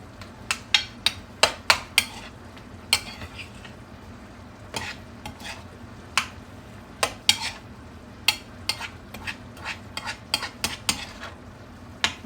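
Fresh first-of-the-season corn sizzles in butter with salt in a pan while a utensil stirs and scrapes it, sharp irregular clinks and taps over a low steady frying hiss.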